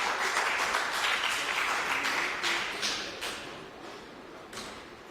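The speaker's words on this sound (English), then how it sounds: "A round of applause for him again," A round of audience applause at a court induction course fills the room with dense, steady clapping that slowly thins and fades toward the end, heard alone without speech.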